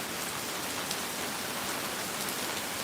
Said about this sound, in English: It's like raining cats and dogs.